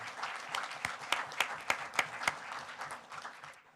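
Audience at a Westminster city council meeting applauding: scattered, steady hand clapping from a modest crowd in a hall, moderately distant, fading out after a few seconds.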